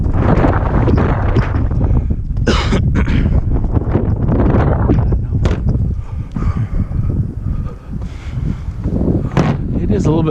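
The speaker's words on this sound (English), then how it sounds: "It is a little bit windy." Gusty outdoor wind buffets the microphone with heavy, rumbling blasts that surge and ease unevenly, mixed with brief rustles and faint speech.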